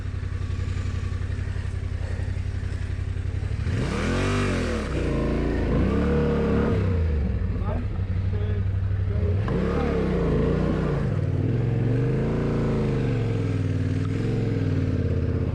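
A Yamaha T7 adventure motorcycle loaded with touring gear revs hard in the high country, engine rising and falling in repeated throttle blips, close and loud, with a continuous idle rumble underneath.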